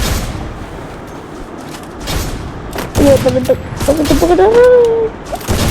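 Gunfire in the Free Fire video game, a burst of shots and impacts in the middle of the clip among other game sounds, with a rising tonal effect after it; fairly loud.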